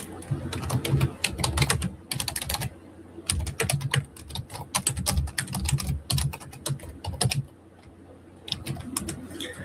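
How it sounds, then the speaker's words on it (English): Rapid, close clicking of keys on a computer keyboard in irregular bursts with short pauses, with faint speech and bird-like cooing in the background. "It would be like me typing out right here."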